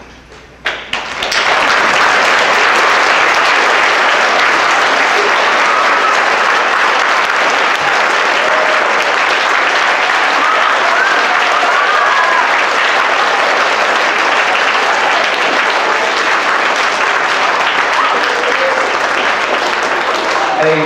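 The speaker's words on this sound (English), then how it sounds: "let's give them a round of applause" A large audience at a Veterans Day essay contest ceremony gives veterans a loud, sustained round of applause, dense steady clapping that swells after the first second and continues unbroken for about twenty seconds.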